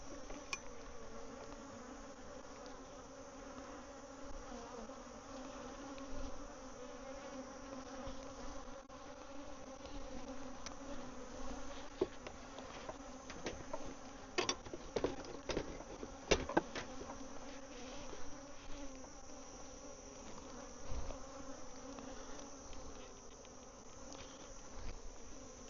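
Honeybees drone in a bee yard with a steady, dense hum throughout, a few louder close passes and light clicks standing out now and then.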